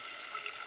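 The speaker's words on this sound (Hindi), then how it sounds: "हम इसमें थोड़ा सा पानी ऐड कर देंगे" A small splash of water poured into spice paste frying in a pan for shalgam gosht gives a brief soft hiss and trickle, faint and short.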